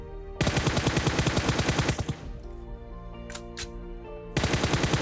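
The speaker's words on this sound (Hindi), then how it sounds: "अब देखो फायरिंग होती है" Automatic gunfire in PUBG Mobile rattles out in two loud rapid bursts, separated by a short quieter gap with a couple of sharp distant shots.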